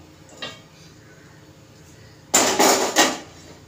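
Metal vessel set down on a gas stove, a loud clattering clank with a quick follow-up rattle after a quiet stretch with one faint knock.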